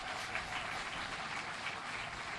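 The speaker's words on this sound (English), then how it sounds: "You can clap for that, folks." Faint, even applause from an audience at the Slavery Museum in Angola, a continuous wash of many hands clapping in a large space. It holds steady with no voices on top.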